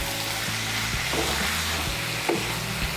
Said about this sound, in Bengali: চিংড়ি মাছগুলোকেও ভালো করে মিশিয়ে নেব কুমড়োর সঙ্গে।